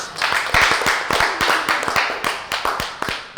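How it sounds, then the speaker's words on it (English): A small group claps close by, sharp, distinct hand claps in a loose, uneven rhythm that continues throughout. "Give yourselves a round of applause."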